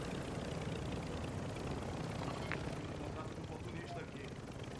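A helicopter in the Call of Duty Warzone DMZ video game gives off a constant, loud rotor-and-engine drone that fills the whole stretch without a break.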